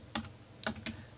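A few separate keystrokes on a computer keyboard while text is typed into a document, close and crisp, spaced irregularly with quiet gaps between them.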